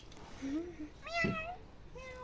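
A cat meows three times in short, rising-and-falling calls, the middle one loudest and closest, with no talking over it.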